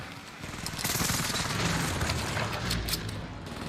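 A Call of Duty airstrike lands as a dense, sustained rumble of blasts and crackling fire, loud and continuous for several seconds with a deep boom swelling near the end.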